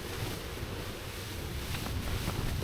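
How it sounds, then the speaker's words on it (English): Strong wind buffeting a camping tent with a steady broadband roar and slight surges, close and loud, with no talk. "We're getting a couple of bigger gusts hitting the tent as well now"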